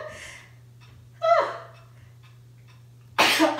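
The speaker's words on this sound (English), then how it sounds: "Sneeze. Bless you." A sudden, loud human sneeze bursts out near the end, after a quieter breathy sound and a short voiced exclamation earlier, all over a steady low hum in an indoor room.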